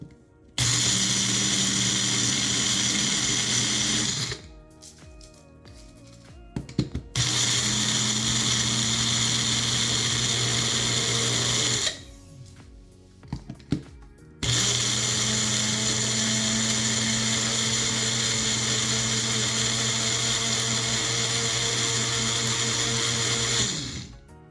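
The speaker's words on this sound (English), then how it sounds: "We're just gonna blend these up till they're a nice powder." Dried onions ground into powder in a blender, three long loud bursts of high motor whine with a churning grind, separated by short pauses and clicks, close by and without talk.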